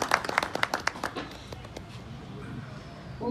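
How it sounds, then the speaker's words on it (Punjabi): Applause at a public welcoming event in Punjab, clapping bursts in the first second or so and then fading into a lower steady patter of hands. "ਜ਼ੋਰਦਾਰ ਤਾੜੀਆਂ ਨਾਲ ਇਹਨਾਂ ਦਾ ਸਵਾਗਤ ਕੀਤਾ ਜਾਵੇ"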